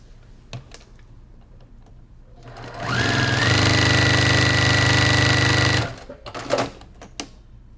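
A sewing machine runs steadily for about three seconds, stitching through the center of a quilt block with a loud, even whir. Soft handling noises are heard before and after the stitching.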